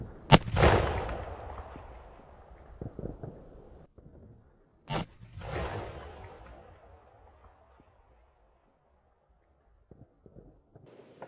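Guns fired outdoors as makeshift Fourth of July fireworks, two loud separate booming shots each rolling off into a long fading echo, followed by faint clicks and handling noises.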